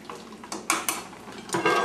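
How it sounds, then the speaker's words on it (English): A spoon scrapes and clinks against a metal pot of salted water while stirring, giving a few quick irregular knocks and swishes close by, with no talk. "Give it a bit of a stir."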